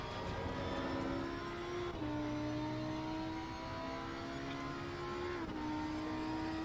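Race car engine at full throttle around Imola in Assetto Corsa Competizione, a loud steady drone rising in pitch through each gear and dropping sharply at two upshifts, with no voices over it.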